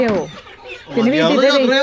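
Farm chickens clucking and calling in a steady, fairly loud run, with a brief lull before a denser burst of overlapping fowl voices.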